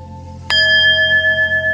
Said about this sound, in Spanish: Escucha las campanas y sumérgete en el sonido.